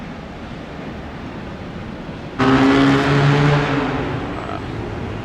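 Cars drag racing past on a road beside the LAX Terminal 4 construction site; a sudden loud engine roar bursts in midway over steady wind noise, then slowly fades.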